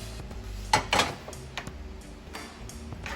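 Ziti pasta is stirred in a pot: a utensil scrapes and clinks against the metal in several sharp knocks, followed by softer scattered taps. Close, with no talking.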